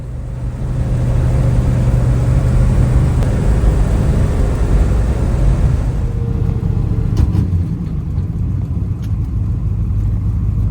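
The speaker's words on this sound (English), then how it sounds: "Occasionally it pops out of second gear on diesel, which is what just happened there" A 1963 Corvette Sting Ray drives along with a loud, steady engine and road roar. Partway through, the drone shifts abruptly as the car pops out of second gear.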